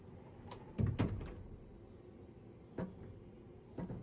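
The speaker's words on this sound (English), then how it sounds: "Sliding doors." Closet sliding doors in a travel accommodation rolling and bumping: a few soft thuds and rumbles clustered early, then two lighter knocks later, fairly close in a quiet room.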